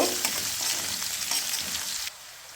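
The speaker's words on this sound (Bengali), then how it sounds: "এখন এই একই তেলের মধ্যে দিয়ে দেবো আস্ত জিরা ফোড়ন। জিরা ফুটে উঠলে দিয়ে দেবো পেঁয়াজ কুচি।" Whole cumin and chopped onion frying in oil in a pan, a loud continuous close sizzle with stirring scrapes that cuts off abruptly near the end.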